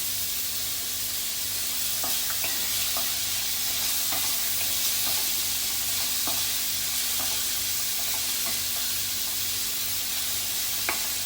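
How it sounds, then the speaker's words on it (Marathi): Sliced onion and green chilli fry in a pan for bitter gourd bhaji, a steady close sizzle with occasional light taps of a stirring spoon, and no voices over it. "चांगलं शिजून घेते कांदा परतला आपला एक दोन मिनटात"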